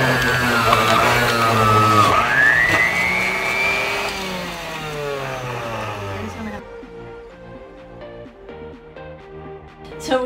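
A kitchen juicer motor whines and shifts pitch as fruits and vegetables are pushed in, loud at first with sweeping tones, then settling into a lower, choppier grinding hum that ends with a bump.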